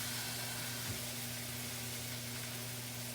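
Pork tenderloin from Traynor Farms sizzling as it sears in a hot pan, a steady, moderately loud hiss with a low hum underneath and a faint bump early on.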